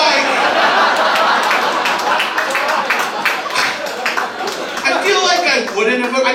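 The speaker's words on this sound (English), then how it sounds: "Someone's clapping." A comedy-show audience member clapping, steady quick claps ringing out amid the crowd's murmur and chuckles, loud and continuous throughout.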